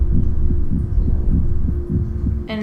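A steady, deep heartbeat thumps in the game What Remains of Edith Finch, roughly two beats a second over a low hum, loud and close, with a brief bright chime at the end and no talking.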